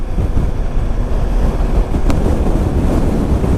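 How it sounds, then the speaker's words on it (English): Strong wind buffets the microphone while riding a Honda ST1100 Pan European motorcycle, a loud continuous roar with heavy low rumble and no speech. "Strong wind."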